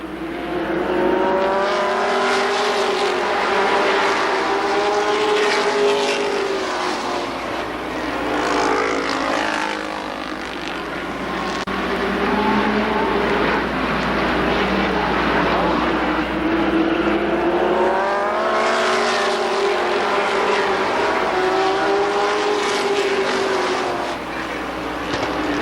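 Stock cars race at Columbus Motor Speedway, their engines roaring loudly as the pack passes, swelling and fading in long waves across the whole stretch.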